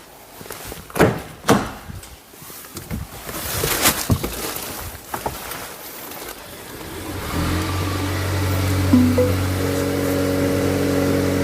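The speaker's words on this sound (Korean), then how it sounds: "시동 소리도 들려드리겠습니다" A Mercedes GLC 300 4MATIC coupe's engine cranks and fires up after a few knocks and thumps, settling into a steady, moderately loud idle hum.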